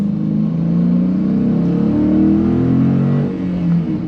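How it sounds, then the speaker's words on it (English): A 2022 Dodge Challenger Scat Pack's deep, throaty V8 stock exhaust revs loudly and steadily up close, the engine note rising and holding in a rich, rumbling roar. "For a stock exhaust system, it sounds great"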